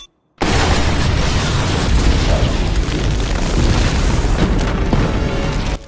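Explosives blowing up in the animated Star Wars Clone Wars series: a sudden loud, close blast that rolls on as a sustained, dense rumble for several seconds.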